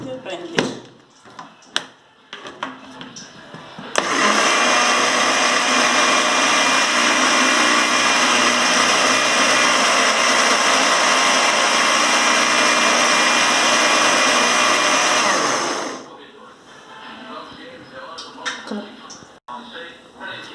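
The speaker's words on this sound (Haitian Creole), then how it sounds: "Et puis, ma on va mettre blender." A kitchen blender grinds a flour and milk mixture, starting abruptly and roaring loud and steady for about twelve seconds before cutting off, with talking and handling noises before and after.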